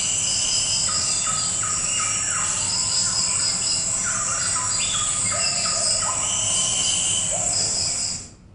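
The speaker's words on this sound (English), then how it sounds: "followed by the chestnut winged babbler again, and then the Malaysian eared nightjar, followed by the cicada." Dense Malaysian rainforest soundscape in which cicadas and insects buzz continuously, layered with repeated bird calls from babblers and a nightjar, fairly close and loud, with no speech.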